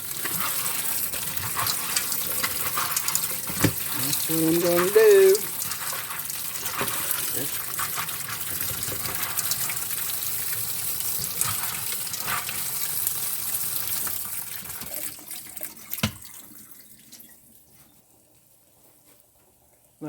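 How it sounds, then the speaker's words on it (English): Tap water runs steadily through pinto beans sitting in a drainer in a kitchen sink, a continuous rushing splash that tapers off near the end, with someone talking briefly over it. "I'm just going to run water through it."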